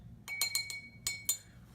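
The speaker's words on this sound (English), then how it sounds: "Go ahead and wash the brush." Paintbrush rattling inside a glass jar of rinse water during acrylic painting, a quick series of bright clinks and taps, close and fairly quiet, with no talking.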